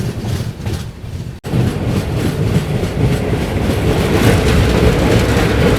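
The Mandovi Express on the Konkan Railway route rumbles steadily just after leaving a station, a loud, continuous roar of wheels and carriages with rhythmic clatter.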